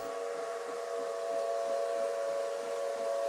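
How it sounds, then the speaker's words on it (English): A steam locomotive on the Jitong Railway sounds a long, steady whistle across mountainous icy wilderness, holding a harsh sustained tone for several seconds over a faint hiss, moderately distant. "It is magnificent to hear the harsh whistle as the powerful steamer cuts through the blue sky and icy wilderness."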